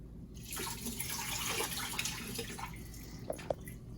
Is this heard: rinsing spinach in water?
yes